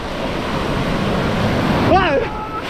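Ocean waves break in a steady, loud roar of surf with wind, and a voice calls out briefly near the end.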